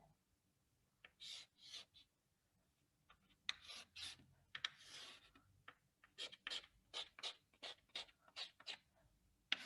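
A pen scratches across paper while drawing a structural bolted-joint diagram, with close, repeated short strokes in irregular bursts, some quick and rhythmic, with no talking.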